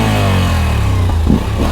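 The exhaust of a Moto Guzzi V85 TT motorcycle rumbles loud and close, a deep, throbbing engine note with a brief rev blip near the end.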